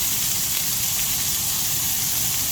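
Mixed vegetables of peas, corn and carrot frying in butter over low heat in a pan already used for fish, a steady close sizzle with no pauses.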